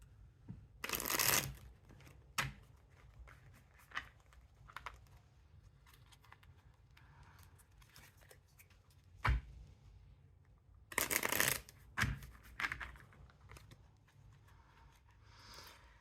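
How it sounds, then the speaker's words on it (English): Tarot cards being shuffled in two crisp riffling bursts, with scattered soft taps and handling noises between them; no talking. "I'm going to shuffle them real quick."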